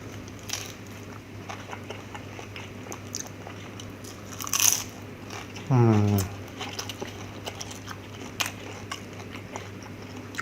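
One firm, crunchy bite into a split mini egg martabak from an Indonesian street stall, close to the mic, preceded by a brief rustle and set against a steady low hum with faint background noise.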